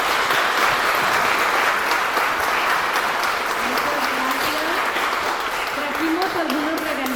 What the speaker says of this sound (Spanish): Pues un fuerte aplauso nuevamente